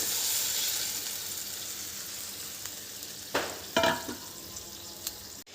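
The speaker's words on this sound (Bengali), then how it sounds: "তেলের মধ্যে মাছ ছেড়ে দেবো।" Hilsa fish fries in oil already used for frying onions, with cumin and chilli, giving a soft, even sizzle close by, then a few louder crackles and stirring scrapes near the end.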